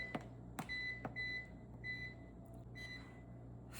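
An air fryer beeps as its temperature is set to 350 degrees, giving a series of short, clear electronic beeps, about six in an uneven rhythm, close and fairly quiet, with a few soft button clicks between them.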